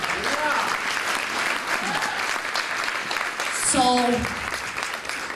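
Audience at a talk on the future of clothing and landfill-free fashion breaks into sustained applause, a steady wash of many hands clapping through the whole stretch, with a voice starting to speak over it near the end.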